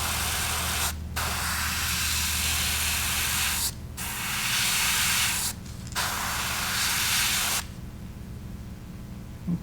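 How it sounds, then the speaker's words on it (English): Airbrush spraying black paint onto a pink crawdad fishing lure, painting the nose and eye sockets: steady close hiss in three long bursts separated by short pauses, ending in quiet room tone. "while I still have black in the airbrush, I want to paint the nose and the eye sockets"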